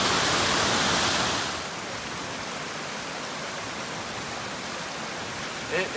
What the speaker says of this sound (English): we're getting very close to the base of the main waterfall. And it cascades down the mountain.